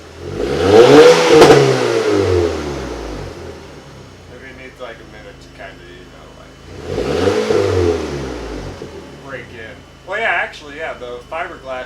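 An Audi TTS fitted with a Scorpion exhaust revs twice, each burst a loud, close throaty climb that falls away, with speech in the lulls between them.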